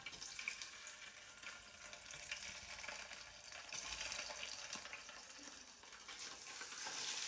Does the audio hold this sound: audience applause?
no